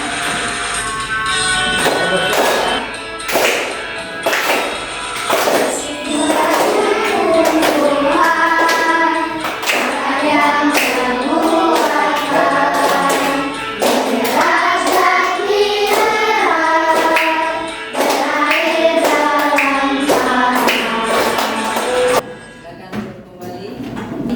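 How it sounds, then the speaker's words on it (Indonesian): A classroom of people claps hands in a quick rhythmic pattern during an ice-breaking activity, sharp repeated claps running alongside group singing and voices before stopping near the end. "Bagaimana tepuk tangannya ya?"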